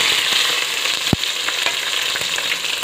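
Thinly sliced onions and chillies frying in hot oil with whole spices, a loud continuous sizzle, close up, with a few sharp knocks of a spoon stirring the pan.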